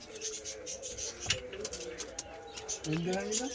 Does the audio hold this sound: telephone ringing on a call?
no